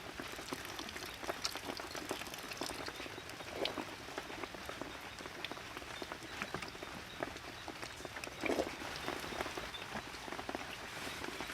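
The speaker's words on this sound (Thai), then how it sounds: "ฝนตกตก" Rain falling outdoors, a fine steady patter of drops on surfaces with scattered sharper drips and taps, moderately close and consistent throughout, no speech.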